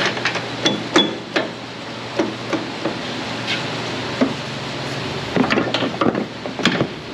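A hammer taps a wheel bolt into the hub of a seven-lug Ford F250 with a string of separate, close, sharp knocks at uneven intervals, a few of them clustered together.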